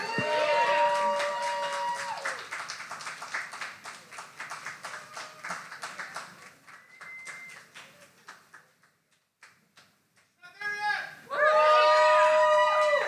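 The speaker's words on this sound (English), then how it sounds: "Applaud the poet. Keep the applause going." Audience at a poetry slam anniversary event clapping and cheering for a poet, moderately loud at first, then fading to scattered claps and near silence before voices and cheering swell again.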